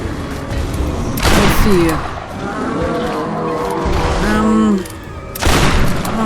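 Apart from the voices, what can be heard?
gunfire while fighting a boss in Tomb Raider (2013) video game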